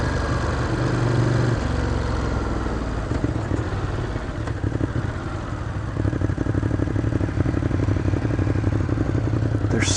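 A stock Scrambler motorcycle engine runs steadily while riding, a loud continuous rumble with a throbbing mid-range beat and rattling clatter, no voices over it.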